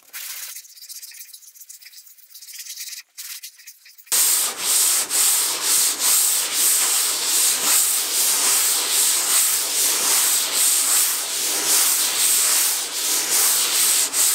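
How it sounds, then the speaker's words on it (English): Rhythmic back-and-forth block sanding scrapes on primer over a Honda Civic's car body, loud and close, repeating steadily after a quieter start. "I've kind of started already working a little bit of the surface down here, sanding it down."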